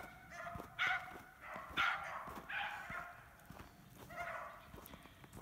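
Dog barking outdoors in snowy woods, a handful of separate bark bursts spaced about a second apart, moderately near and fairly loud, with faint crunching and rustling between them and no talk.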